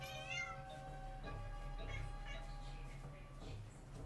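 A pet cat meows several times nearby, drawn-out tonal cries over a quiet room hum, with a brief human voice mixed in.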